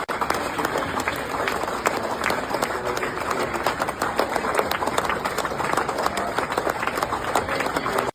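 A man claps in a played recording, the steady claps blending into a continuous crowd-like patter of applause running the whole time under faint background voices.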